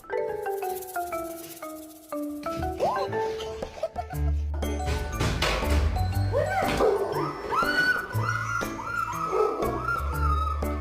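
A dog whimpers in high, wavering whines that slide up and down, then breaks into a run of sharp yips and barks mixed with more whining, close and fairly loud.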